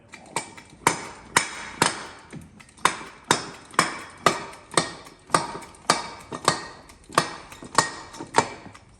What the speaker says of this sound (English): what I've got is I've got a hydraulic bead breaker that actually clamps in there